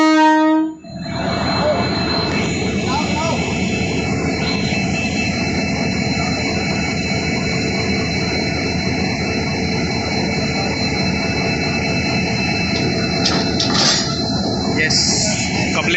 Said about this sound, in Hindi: अब कपलिंग देखिए कि ट्रेन में कैसे कपलिंग होती है।